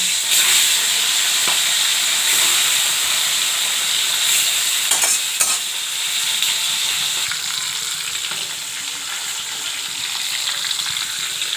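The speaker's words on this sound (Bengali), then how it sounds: "এবার মাছটা মেখে তেলে ছেড়ে দেবো" Turmeric- and salt-rubbed fish frying in hot oil, a steady broadband sizzle that holds evenly throughout with a few brief crackles and spits, close and fairly loud, with no talking.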